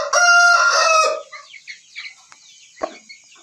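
A breeder rooster crows loudly once, a long harmonic call, followed by quieter clucks and scattered bird sounds.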